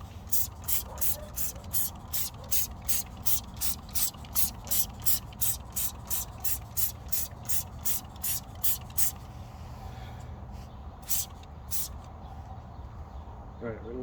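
Meguiar's Hot Rims black wheel cleaner sprayed onto tires from a trigger bottle, about twenty quick close hissing squirts in a steady rhythm, then a pause and a few more, with a voice heard faintly underneath.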